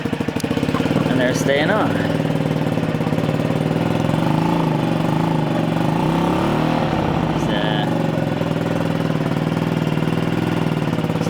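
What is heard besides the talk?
Honda Zoomer scooter engine revving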